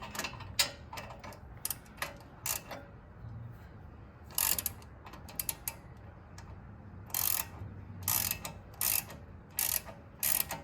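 Ratchet wrench clicking in short bursts while a bolt on a car brake caliper is tightened, sharp ticking pulses spaced irregularly over low background noise.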